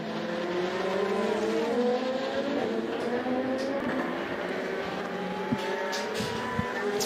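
Race cars in an endurance race roar through a chicane, engines rising and falling steadily with overlapping passes and tyre noise, continuous and fairly close with no talk.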